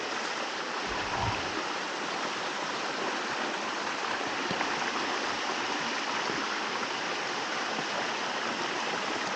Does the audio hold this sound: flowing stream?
yes